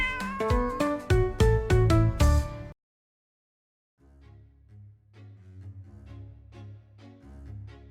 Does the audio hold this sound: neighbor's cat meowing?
yes